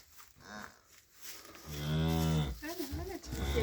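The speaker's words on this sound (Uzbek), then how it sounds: "Yo'lada yuribdi, endi bezovta qilmadik sigirni." A cow on a farm gives a couple of close, loud moos, one long and drawn-out, with quiet farmyard background between calls.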